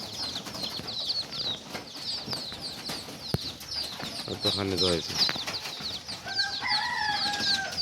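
Pigeons flutter in to feed, with scattered soft wingbeats amid bird chatter and background noise, while someone speaks briefly nearby.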